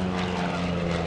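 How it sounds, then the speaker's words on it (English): Propeller airplane flying a low STOL demonstration at the 2017 Greenwood Lake airshow, its engine droning steadily and loudly throughout, close by, with no talk over it. "Get that airplane up there."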